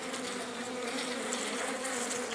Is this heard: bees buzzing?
yes